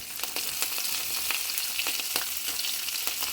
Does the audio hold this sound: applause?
no